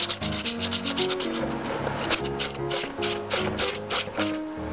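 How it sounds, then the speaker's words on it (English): Rhythmic scratchy sandpaper strokes on a Green Ranger helmet, rubbing back and forth in a quick steady pattern, close and fairly loud with no talking. "Yep, it's definitely sanding."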